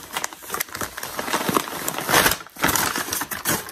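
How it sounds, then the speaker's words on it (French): Crinkly bubble wrap rustling and crackling, handled close by in bursts of scrunching and popping with no voices. "c'est du papier bulle."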